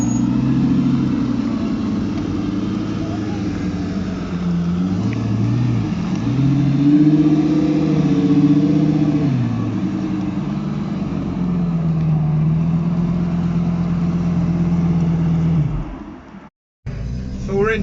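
Sports cars including a Lamborghini Gallardo with a straight-through exhaust drive in traffic at a supercar meet. A loud, close engine drone rises and falls in pitch for several seconds, then cuts off sharply near the end.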